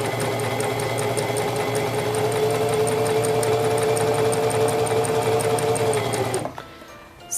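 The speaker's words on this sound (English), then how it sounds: "and sew along your seam" A sewing machine runs steadily along a fabric seam, a loud close rapid mechanical whir with regular stitching ticks, stopping abruptly near the end.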